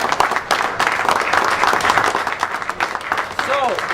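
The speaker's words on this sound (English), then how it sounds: "you all deserve a round of applause for your efforts" Volunteers at a beef cook-off fundraiser are applauded by a crowd outdoors. The clapping runs loud and continuous throughout, with a brief voice near the end.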